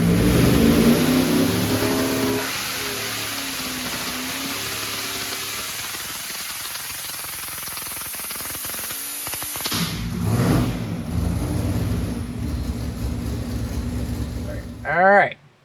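A supercharged engine with twin blowers revving on a dyno during a final full pull, a loud rising roar that drops back, then swells again and ends in a sharp high whine, with someone talking over it.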